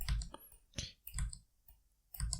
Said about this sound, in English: So I'm going to type in a D.